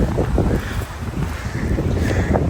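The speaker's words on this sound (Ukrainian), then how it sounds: "Вітер сильний сьогодні, друзі, не знаю, чи буде мене чути." Strong wind blasting a microphone outdoors during an autumn mushroom hunt in the Carpathians, a loud continuous low rumble with gusty buffeting that never lets up.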